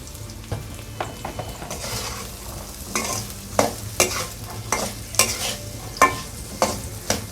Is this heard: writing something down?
no